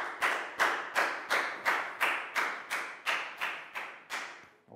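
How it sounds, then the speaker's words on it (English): A primary school class claps in unison for a student, about ten loud, evenly spaced claps in a steady rhythm, each ringing briefly in the classroom. "Big round of applause for Pat"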